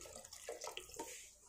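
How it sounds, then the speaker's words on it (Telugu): Water pours into a cooking pan while vegetable upma is being made: a faint, short splashing gush with a few soft bubbling bursts. "4 గ్లాసులు వాటర్ వేసుకున్నాను."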